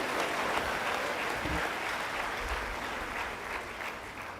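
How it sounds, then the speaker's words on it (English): A large audience applauds at a university matriculation ceremony, broad, continuous clapping that holds steady from start to end. "Clap for that also."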